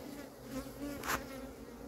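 Honey bees buzzing around an open hive box as a new queen is shaken down into the brood box, a close, continuous drone that swells briefly midway.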